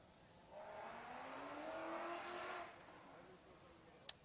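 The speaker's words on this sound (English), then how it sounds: "There's a loud car out there." A car revving outside a ballpark at a summer baseball game, its engine note rising and fading at a distance as a faint steady drone with a sharp click at the end.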